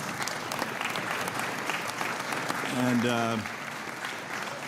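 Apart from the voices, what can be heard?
applause at a committee hearing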